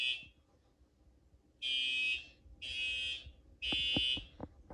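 Two fire alarms beep together in sync, with three long, shrill bursts and a short one at the start, muffled and fairly quiet, with faint handling knocks and rustles between the tones.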